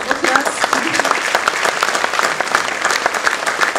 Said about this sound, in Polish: Oklaski.